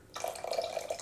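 Vinegar poured into a bowl while mixing a lamb riblet sauce with lemon juice and Worcestershire, a brief close trickle and splash lasting about a second.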